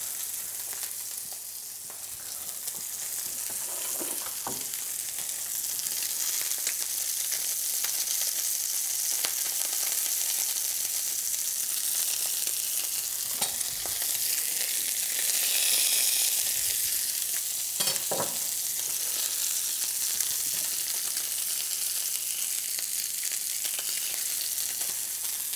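A fish fillet fries in oil in a pan for gourmet fish and chips, giving a steady, loud, hissing sizzle throughout, with a few brief clicks and shifts as the pan is swirled.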